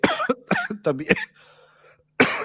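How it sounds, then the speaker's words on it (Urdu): Harsh, heavy coughing from a man who is unwell, a burst of several loud hacking coughs close to the microphone, a short pause with faint background, then another cough. "شدید کھانسی ہو رہی ہے"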